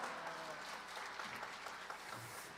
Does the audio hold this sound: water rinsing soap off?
no